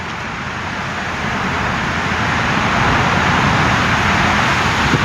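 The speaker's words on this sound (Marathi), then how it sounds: "आणि गाड्या पूर्ण स्पीडमध्येच आहेत" Cars rushing at full speed through a long road tunnel on a highway drive, a dense, steady roar of traffic and road noise that swells slightly and stays loud throughout, with no talking.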